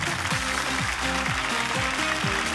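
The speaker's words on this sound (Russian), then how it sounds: "Галина Николаевна, мы вам аплодируем стоя" A television talent show audience for performers over sixty applauds a contestant at the superfinal, a dense, steady wash of clapping under a low musical bed.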